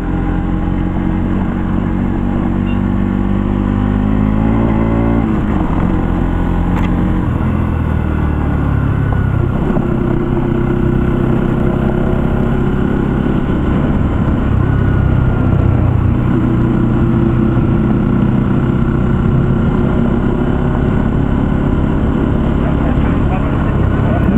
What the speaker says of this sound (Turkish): motorun dangur dungur dangur dungur